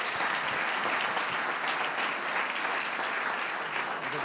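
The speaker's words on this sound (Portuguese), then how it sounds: "Vamos aplaudir Jesus" Dense, steady applause from a church congregation during a celebration service, a continuous wash of many hands clapping at close range with no voices standing out.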